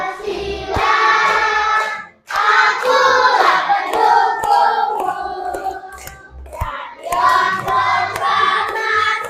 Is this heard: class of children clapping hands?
yes